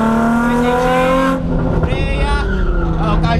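A car pushed hard in first gear through a tight corner: a loud, close engine roars and revs, then drops in pitch as the tires scrub and slide, with a voice talking over it.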